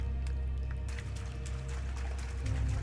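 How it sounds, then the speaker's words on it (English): Wading through sewer water in the video game A Hat in Time, a soft continuous sloshing and pouring of liquid with faint splashes, steady and moderately quiet throughout. "Are you sure that's just not beer that we're sloshing through?"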